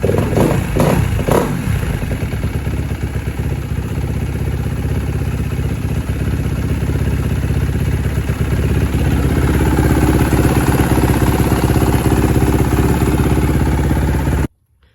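Kawasaki KX250F dirt bike engine, freshly reassembled, clattering to life after a few quick bursts and then running steadily and loudly close by before stopping abruptly at the end.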